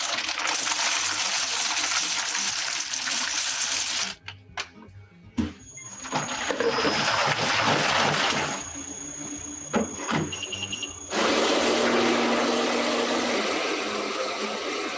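A Bravo Evo Mix machine making chocolate ganache runs with a steady mechanical whir that cuts out and restarts several times, broken by clicks, beeps and brief high tones, then resumes running loudly.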